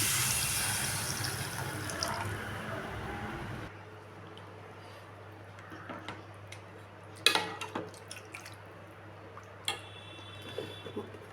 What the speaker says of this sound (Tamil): ஒரு தேங்காய் பால் கொஞ்சம் எடுத்து வச்சுருக்கேன் அது சேர்த்துக்கிறேன்